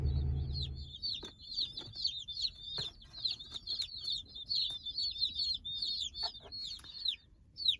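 A constant chorus of high, shrill cheeping from many young chicks in a shipping box, continuous and close, with a few soft thumps of movement.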